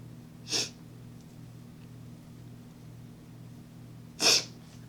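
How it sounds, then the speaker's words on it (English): Two sharp, breathy nasal sniffs from a runny nose, one early and one near the end, close and fairly loud against a quiet low hum. "I'm so sorry for sniffling,"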